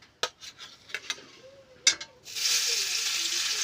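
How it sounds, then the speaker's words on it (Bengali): Several sharp clinks and knocks from a pan come first, then bhola fish hit hot oil and a steady loud sizzle takes over and holds to the end. "এখন মাছটা ভেজে নেব।"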